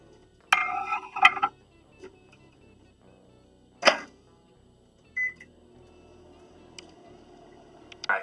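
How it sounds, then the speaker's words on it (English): A microwave oven heats a frozen burrito in a quiet room, with a few sharp clicks and clunks, a couple of short beeps and a faint steady hum underneath. "It says to microwave it for a minute and 20 seconds."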